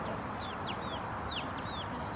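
Chickens cluck in a backyard coop, several short rising calls scattered over steady outdoor background noise, moderately close and with no voices.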